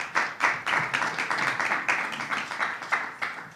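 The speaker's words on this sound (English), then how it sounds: "let's give them a round of applause" Applause at a state budget briefing led by New York Governor Cuomo, a small group clapping in an even rhythmic pattern, close and moderately loud, for a few seconds.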